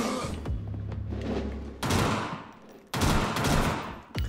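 Pistol shots from the common pistol in the video game Vampyr ring out as loud, sharp cracks with rolling, echoing tails, several bursts in a close, intense exchange of fire, with no talk.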